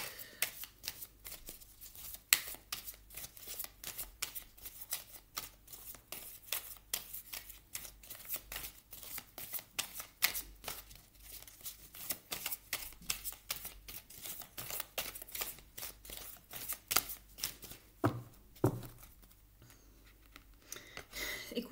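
Oracle cards are shuffled continuously, with a long run of quick, crisp papery riffles and flicks close by and no speech.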